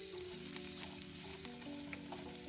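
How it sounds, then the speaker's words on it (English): Carrots and other vegetables sauté in a hot pan with a steady, close sizzle and frying crackle throughout, no voices over it. "If you're sautéing your veggies one by one, each veggie will take from 2 to 3 minutes to soften."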